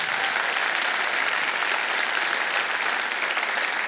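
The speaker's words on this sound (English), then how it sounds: "you need to give them a huge round of applause" Sustained applause from a luncheon audience fills the room, a dense, steady wash of many hands clapping at an even level with no voices over it.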